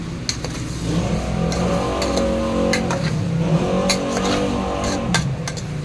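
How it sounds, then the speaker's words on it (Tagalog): Motorcycles rev outside, engines rising and falling in repeated throttle bursts, fairly loud and steady, with sharp clicks and clatter scattered over the drone. "pag barurot sa yung mga motor"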